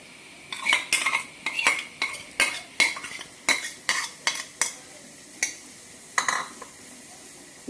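A spoon mixes mashed potato with spices, green chillies and onion in a bowl, making quick repeated clinking scrapes in a steady rhythm, close and fairly crisp, with no voices.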